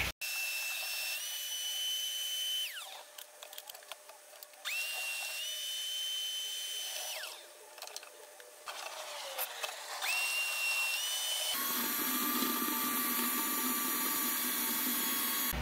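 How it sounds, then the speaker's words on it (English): A Bucket Head vacuum sucks gunk out of an aquaponic radial flow filter, a loud, close, high whine that drops and surges several times as the suction load changes, then settles into a steady rougher roar. "There you can see that I got all the gunk sucked out of this filter."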